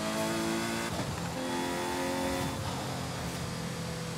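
A turbocharged Ferrari V12 engine in Forza Horizon 5 roars loudly and continuously, with whining turbo tones rising and falling as it revs, no voices.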